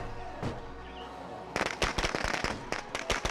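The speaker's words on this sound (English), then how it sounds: "Give them the firecrackers" Firecrackers burst in State of Decay 2 as a rapid string of sharp cracks after a quiet opening, with one isolated pop early on, then dense crackling that runs loud and close to the end.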